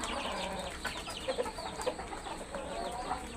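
Laiza and Pahari hens on a farm, repeated close clucks and short squawks in an uneven stream, no one talking.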